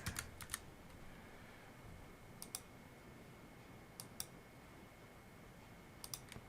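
Computer keyboard typing an email address and password, quiet scattered bursts of key clicks with pauses between them, close and alone.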